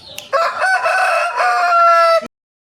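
A Brazilian-breed rooster gives one long, loud crow close by, rising and holding before cutting off into silence.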